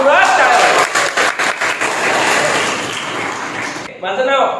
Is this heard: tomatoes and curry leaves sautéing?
no